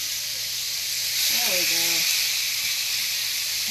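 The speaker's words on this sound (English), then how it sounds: "Can you hear the sizzle?" Chicken thighs for fajitas sizzle on a hot grill, a steady broad hiss filling the whole clip, with a brief spoken remark partway through.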